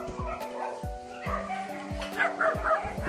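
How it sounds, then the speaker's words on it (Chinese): A golden retriever returning to a dog rescue centre gives a series of short, close barks and whimpers, spaced in quick bursts, while people talk nearby. "金毛回来了，毛毛。"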